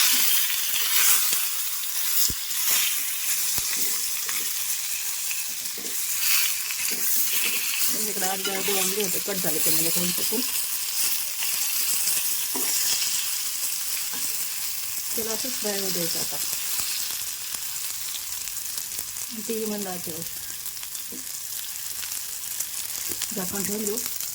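Brinjal being stirred into frying masala in a pan, with a steady close sizzle throughout and periodic scraping stirs. Some talk can be heard faintly beneath the frying.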